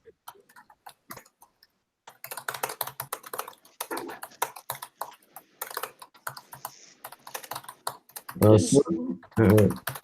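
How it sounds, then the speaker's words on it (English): Loud, rapid typing on a computer keyboard clatters in uneven bursts of sharp clicks, close to the microphone, with two louder thuds or voice fragments near the end. "Somebody typing a keyboard really loudly."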